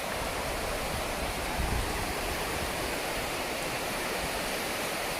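Loyalsock Creek rushes along in a state park, a steady, broad wash of flowing water that stays loud and even throughout, with no voices.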